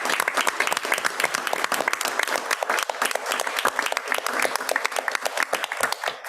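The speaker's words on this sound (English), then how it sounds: "we are going to stand and applaud Mr. C again on this noteworthy accomplishment" A standing audience at a board of education meeting applauds steadily, dense, even clapping from a mid-sized crowd throughout, fairly close.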